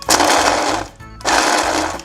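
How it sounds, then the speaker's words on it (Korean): A blender grinds dried anchovies into powder in two loud, close bursts of whirring with a brief pause between them. "멸치를 믹서기 안에 넣어주세요 그리고 약하게 갈아주세요."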